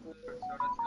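A short electronic notification chime plays as a quick, faint series of rising beeps lasting under a second.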